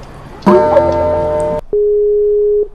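A Skype call tone rings during an online call, first a brief chiming melody, then a steady single beep held for about a second, loud and clear with no voices.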